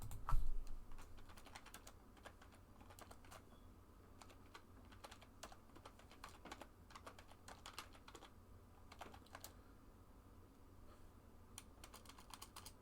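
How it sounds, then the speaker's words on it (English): Someone types on a computer keyboard in steady irregular bursts of soft clicks, close by and fairly quiet, with a brief bump at the start. "I'm typing."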